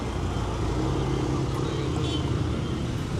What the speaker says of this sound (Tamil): இந்த டைம் டிராஃபிக் என்ன அவ்வளோ டிராஃபிக்காக இருக்குது.